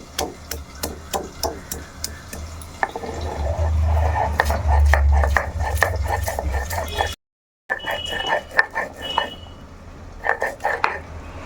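Ginger, garlic and green chillies are ground into a paste, with a rapid series of sharp, knocking strokes, close and fairly loud, pausing once briefly before the rhythmic pounding resumes.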